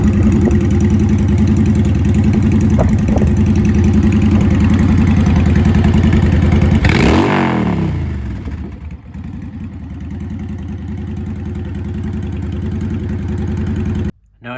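A motorcycle fitted with new aftermarket exhaust pipes idles steadily and loud and close, with a brief blip of revs around the middle before it settles back into a lower, even idle that cuts off abruptly at the end.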